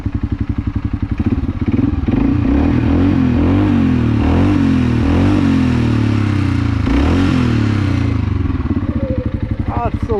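A Segway Snarler AT5L ATV with its stock exhaust revs up and holds a throaty, pulsing drone, pitch rising and falling through several throttle blips, loud and close, with a faint voice briefly near the end.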